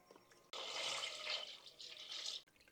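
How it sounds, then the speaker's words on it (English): Water splashes steadily for about two seconds as it is poured into the reservoir of a 16-pod hydroponic growing system kit, a close, soft pour that stops abruptly. "As we add in water to the unit,"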